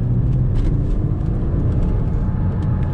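A Porsche Boxster S on a race circuit gives a steady, dense engine drone with road rumble, heard close and continuous, as if from inside the car, with no speech.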